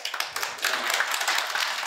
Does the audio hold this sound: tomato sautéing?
no